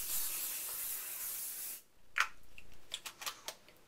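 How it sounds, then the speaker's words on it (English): A steady, close hairspray aerosol hisses for almost two seconds, then stops, followed by a few faint clicks and taps. "I'm going to just spray it for good measure."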